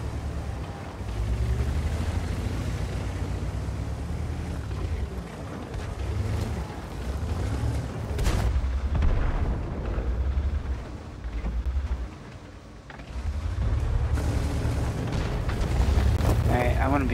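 Artillery fire in the World of Tanks video game booms repeatedly with heavy, rumbling explosions, loud and low, under someone talking through much of it.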